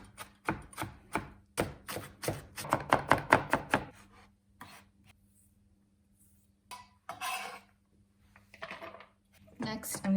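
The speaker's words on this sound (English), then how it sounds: "I cut them up into thin matchsticks, julienne like this, and then I go this way to mince them." A knife julienning and mincing vegetables on a board for kosher kimchi, rapid close rhythmic chops in a fast run, then a pause and a few scattered cuts, with a voice talking over parts of it.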